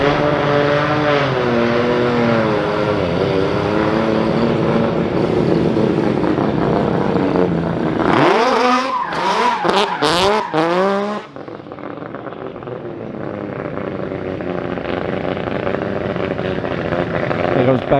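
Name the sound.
Nissan R35 GT-R tyres squealing in donuts at Goodwood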